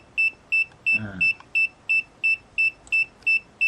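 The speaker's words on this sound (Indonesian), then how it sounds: "Kita mau dengar suara buzzernya dulu." An electronic buzzer on a homemade battery level monitor beeps in a steady, evenly spaced series of about ten short, shrill tones, close and clear, with a brief voice murmur early on.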